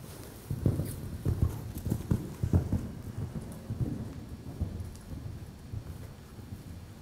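A horse's hooves striding over ground during a riding clinic, a steady series of muffled thuds and footfalls at moderate distance with soft ambient noise between.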